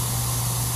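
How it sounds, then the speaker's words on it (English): Compressed air hisses steadily onto a freshly sprayed water transfer print, a short close burst of continuous airy spray over a low steady hum. "Put a little air on it."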